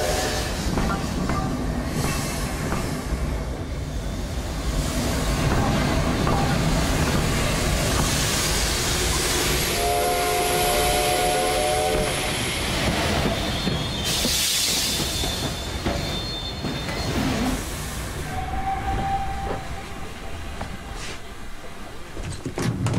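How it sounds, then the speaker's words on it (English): Night train from Berlin rolling on rails, a steady loud rumble of wheels and carriage noise throughout, with brief squealing tones and clanks rising over it. "here I am getting off the night train from Berlin"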